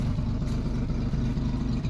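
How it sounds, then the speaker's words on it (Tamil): A Maruti Omni van engine running on LPG and petrol, a steady low idling drone with a continuous rumble, close and loud, with no talking. "இந்த வண்டியோட இன்ஜின் சவுண்டு பாருங்கள்"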